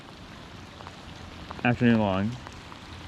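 Steady rain patters around a small fishing boat on a lake during a crappie outing, a constant soft hiss beneath a brief spoken phrase.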